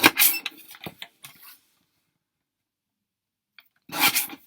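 A paper trimmer cuts through linen card with close, dry scraping strokes. There is a burst of rasping at the start, a long quiet pause, then a second brief slicing rub near the end.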